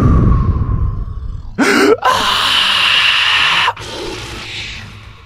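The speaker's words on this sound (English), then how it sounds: "Let's all take a deep breath." A deep, sharp inhaled breath taken while playing the horror game Slender: The Arrival, heard close and loud: a quick gasp, a brief pause, then a long sustained airy intake before a softer exhale.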